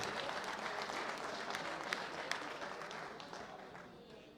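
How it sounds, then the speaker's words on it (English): An audience at a world bench press championship applauds a medalist, a dense continuous clapping wash with a few sharper claps standing out, heard from some distance and easing off near the end. "A big round of applause for Pia Klinch"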